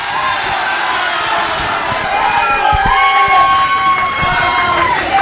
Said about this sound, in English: crowd is not happy about this